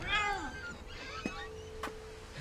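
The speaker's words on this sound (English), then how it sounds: "There's a cat" A cat meows in the video game What Remains of Edith Finch, a couple of clear, close meows at the start followed by a short, fainter cry, with no talking.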